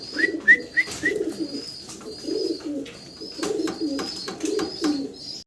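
A single Spanish Granadino pigeon coos close by in a steady rhythm of soft, low phrases, with a few thin chirps from other birds early on in an otherwise quiet setting.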